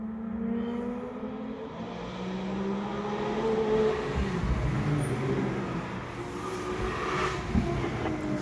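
A Lotus rally car runs along a closed forest road on Weldborough Pass during Targa Tasmania 2021, its engine note rising and falling as it passes and then fading.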